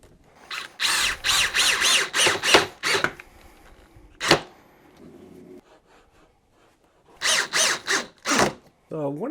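A power drill fitted with a hex socket drives screws into a TORVA outdoor prep dining table, with repeated short whirring bursts close by, a pause partway through, then more bursts.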